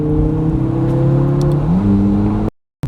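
A Porsche GT3 sports car accelerates hard on a backroad, its engine droning loud and close with a rising pitch and a gear change midway, then cutting out abruptly near the end.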